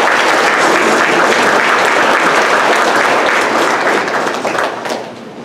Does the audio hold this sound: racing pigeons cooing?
no